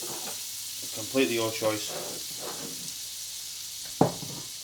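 Bacon rashers fry in a pan with a continuous bright sizzle, while a voice talks over it briefly and a sharp clatter of the pan or utensil cuts in near the end.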